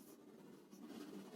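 Marker or chalk strokes writing integers on a board, a soft continuous scratching lasting just over a second, close and alone with no voice.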